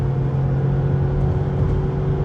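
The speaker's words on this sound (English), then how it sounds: "So I'm gonna just mat the pedal, and it still pulls even" A Ford Bronco Sport Heritage Limited's 2-liter engine accelerates at full throttle at high elevation, a steady, loud droning hum that holds without pause and with no talk over it.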